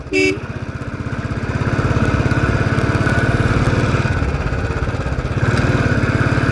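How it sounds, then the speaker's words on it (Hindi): A motorcycle climbs a steep mountain road near a hilltop temple, its engine pulsing with a close, steady, strained drone that swells as it works uphill, with a short horn toot right at the start. "सुबह सुबह बाइक चला रहे हैं, पहाड़ों में नज़ारा है"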